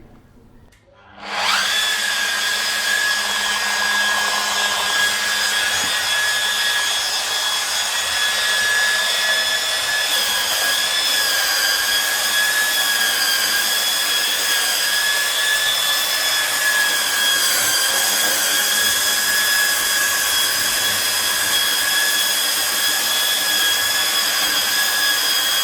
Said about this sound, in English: I'm just going to sand this wall without having the vacuum on